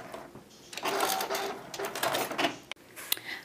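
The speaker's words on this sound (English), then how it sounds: "do a back stitch just to secure it" Close, steady mechanical whirr of a sewing machine stitching a back stitch on quilt binding, running in a couple of short bursts before stopping with a click.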